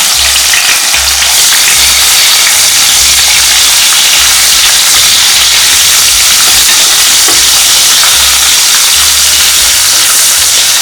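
Onions sizzle loudly in hot ghee with fennel, cinnamon and cloves, a steady close frying hiss that holds without pause.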